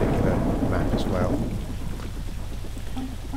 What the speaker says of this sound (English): Raining cats and dogs, as you can see